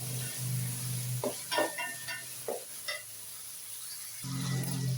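Tomatoes frying with onions in a pan for paneer dum biryani, a low steady sizzle under several distinct stirring scrapes and clinks, close by, with no talking.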